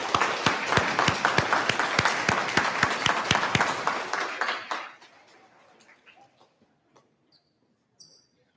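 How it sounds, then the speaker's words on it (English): An audience applauds graduates at a fifth-grade DARE graduation, with loud clapping and sharp individual claps standing out for about four seconds before it dies away to a few scattered claps and near quiet. "how about a round of applause for our graduates?"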